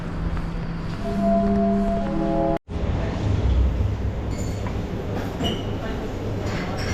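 A Lisbon metro train runs through the underground with a loud, steady rumble and rattling wheel noise that fills the clip, broken only by one very brief dropout partway through.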